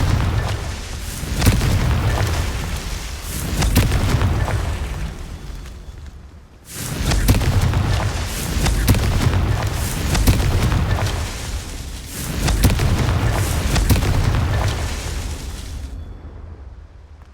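Confringo fire spell explosions in a Hogwarts video game, three long rumbling booms that each swell and slowly fade, loud and alone with no talking.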